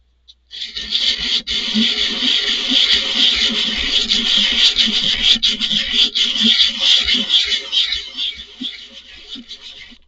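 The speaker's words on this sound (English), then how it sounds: "looks like I'm sanding my gloves apart" Continuous rasping sanding strokes on a resin 3D-printed toy, close and fairly loud, a steady scratchy rubbing with small rhythmic variations and a short pause at the start.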